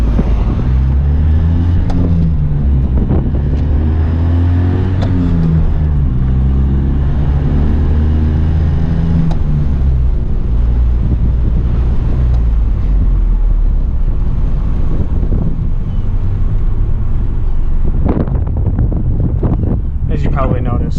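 A 1983 Honda Acty Street L drives on residential streets: a steady engine drone whose pitch rises and falls with the gears, under heavy wind buffeting for the whole stretch.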